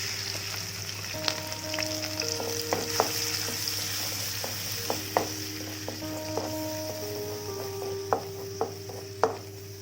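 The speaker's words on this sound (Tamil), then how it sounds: "கடுகு, வெந்தயம், கருவேப்பிலை தழை, பூண்டு, வெங்காயம் இதெல்லாம் போட்டு வணக்கிறோம்." Mustard seeds, fenugreek, curry leaves, garlic and onion sauté in hot oil in a pan, giving a steady loud sizzle broken by scattered clinks and scrapes of a stirring spoon.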